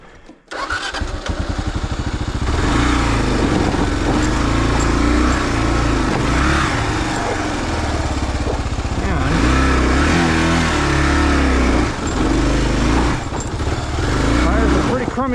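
An off-road vehicle with a failing starter solenoid, out on the Rubicon Trail, gives a brief ragged crank before the engine catches and settles into a steady, close idle that runs without a break for over ten seconds.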